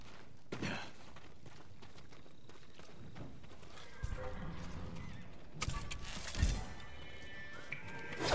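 Horse hoofbeats and snorting at a stable in the video game Ghost of Tsushima, scattered clip-clops and shuffling steps that pick up in the second half, with a few louder thuds, fairly quiet overall.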